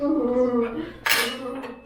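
Silverware clinks against a plate during a cleanup practice at home, a short bright clatter partway through while a voice hums or talks underneath.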